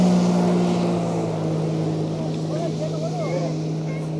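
A speedboat engine runs on Nelligudde Kere, a lake near Bengaluru, holding a steady, fairly loud low drone throughout, with voices heard faintly alongside it.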